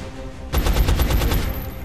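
Gunfire in XCOM: Enemy Unknown breaks out after a short quiet lead-in: a rapid burst of about ten sharp, evenly spaced shots, loud and close, with no voices over it.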